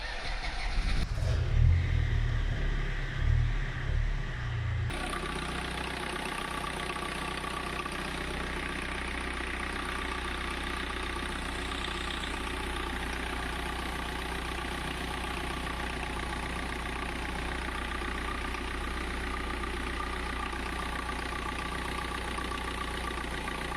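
Diesel engine of a BMW E36 running at a steady idle, a continuous low rumble with a louder rough start-up in the first few seconds, then an even drone throughout.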